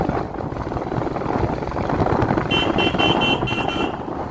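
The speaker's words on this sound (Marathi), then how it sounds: "हायवेच्या अगोदर वसईमधली ही ट्रॅफिक आहे" Evening traffic jam on a road in Vasai before the highway, a constant rumble of idling and creeping vehicles with a repeated car horn tooting near the end.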